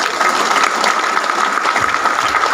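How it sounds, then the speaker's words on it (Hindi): A crowd claps loudly and steadily, a dense wall of applause that holds its strength throughout. "एक बार मैं चाहूंगा इन सबके लिए भी जोरदार तालियां।"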